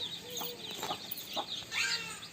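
Soft clucking from a mother hen and her chicks, native country chickens drinking water, a few short calls scattered over a couple of seconds at moderate distance, with no voices.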